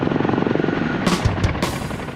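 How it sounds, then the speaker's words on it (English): Heavy, throbbing rotor wash and engine roar of a twin-rotor Chinook helicopter setting down near casualties in an Afghanistan war zone, loud and close, with low thumps as it lands. "lands the Chinook as close to the casualties as possible"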